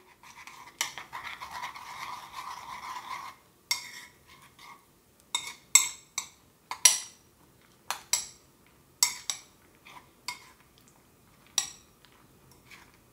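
A spoon stirs Inshape Nutrition powder mix in a bowl, making a series of quiet scraping and clinking strokes in irregular bursts, close and otherwise silent.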